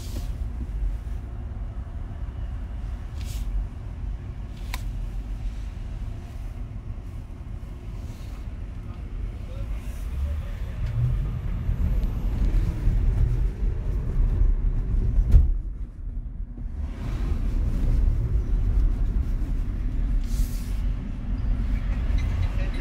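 Inside an electric car accelerating, a steady low road and cabin rumble swells smoothly partway through as the car gathers speed, with no engine roar and no talk.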